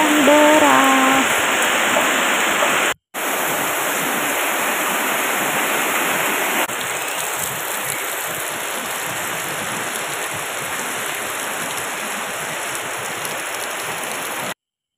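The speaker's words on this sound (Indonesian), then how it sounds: "Dan lanjut istirahat harinya hujan deras." Heavy rain pours steadily in an outdoor setting as a dense, loud, continuous hiss that briefly cuts out once and then carries on unchanged.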